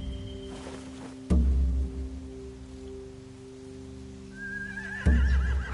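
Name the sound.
horse neighing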